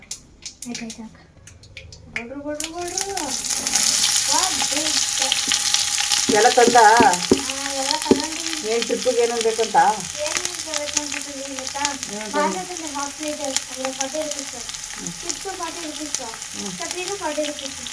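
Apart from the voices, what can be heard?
tempering spices sizzling in hot oil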